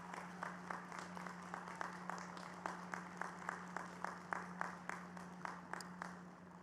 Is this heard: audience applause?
yes